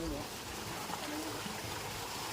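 Water gushes steadily from the outlet of a 3 HP farm pump under an overcast sky, a dense continuous rushing roar that does not change over the short stretch.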